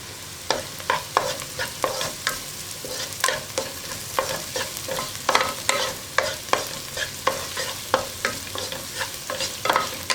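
Turmeric powder being stirred as it fries in a pan for onion sambar, with a steady run of spoon-on-pan scrapes and clacks over a low sizzle, close and fairly loud with no voices.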